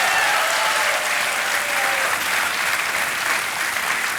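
A studio audience on a TV quiz show breaks into steady, loud, sustained applause that fills the room evenly for several seconds, with no voices over it.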